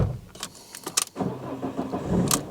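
A 2013 Fiat 500 Lounge petrol engine cranks over with a couple of short starter bursts, then catches and settles into a steady, close idle.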